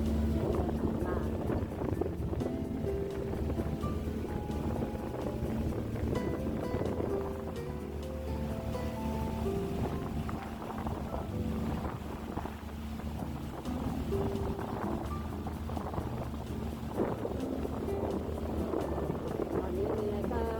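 A two-deck ferry leaving the pier and crossing Hong Kong harbour toward Kowloon on a sunny day: a steady engine rumble with wind and water noise throughout, while someone talks over it.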